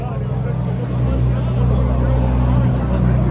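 A Ferrari supercar, an 812 GTS, drives past with a loud, steady engine drone that swells slightly as it nears. The sound is close and continuous, and someone talks over it.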